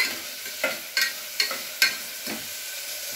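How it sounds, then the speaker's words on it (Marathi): Onion sautéing in oil for a village-style goat mutton curry crackles softly while a spoon scrapes through it in about six rhythmic strokes, each stroke a brief scratchy burst over the low sizzle. "या ठिकाणी हा कांदा तेलामध्ये आपल्याला परतून घ्यायचा आहे"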